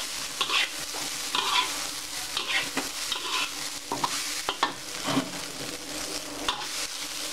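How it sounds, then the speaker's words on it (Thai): Rice sizzles and scrapes in a hot pan with kaffir lime leaves, a continuous frying hiss broken by repeated spatula strokes, close and fairly loud with no voices. "คั่วข้าวไปก่อนนะคะ กลิ่นใบมะกรูดก็จะลอยมาเลยนะ"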